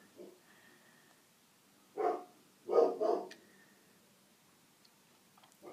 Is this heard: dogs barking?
yes